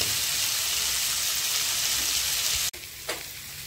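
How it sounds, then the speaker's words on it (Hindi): Chicken pieces frying in a pan for butter chicken give a steady, loud, close sizzle that cuts off abruptly near the end, followed by a brief quieter sizzle. "चिकन छान फ्राय झाले आहे"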